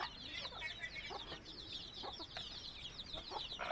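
Poultry-farm hens cluck in a dense, overlapping chorus, short repeated calls rising and falling over a steady flock murmur, fairly close and continuous.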